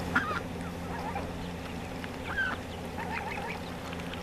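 Ducks quacking in a backyard garden at morning feeding time, a few nasal calls scattered over steady low background hum, moderately close and not loud.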